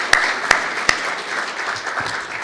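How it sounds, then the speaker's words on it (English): A conference audience at a South East Europe meeting applauds the organizers with steady, moderately loud clapping. A few sharp, distinct claps stand out early, and the applause continues evenly to the end. "So please, another round of applause for them."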